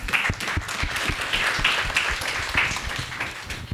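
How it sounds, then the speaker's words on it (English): An audience at a tech talk gives the event team a round of applause, continuous crowded clapping with sharp individual claps standing out near the front, steady throughout. "Please give them a round of applause as well"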